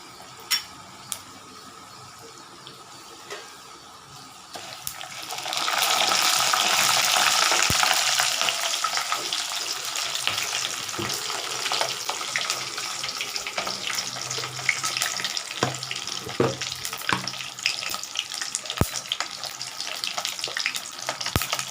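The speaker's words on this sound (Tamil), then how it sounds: "அடுத்தது வந்து நம்ம இது கூடிய கடுகு உளுந்து போட்டுக்கலாங்க" After several quiet seconds, mustard seeds and urad dal hit hot oil for Nellore puliyodharai and burst into a loud sizzle that eases into steady frying, dotted with small crackles and pops, without speech.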